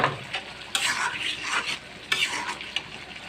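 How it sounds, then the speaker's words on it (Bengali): Shing fish (stinging catfish) going into spice paste that has been sautéed for about fifteen minutes, with loud bursts of sizzling frying and stirring scrapes in a home kitchen. "এখন আমি শিং মাছগুলো দিয়ে দেবো"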